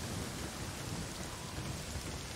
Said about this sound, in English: that's a bad idea in the rain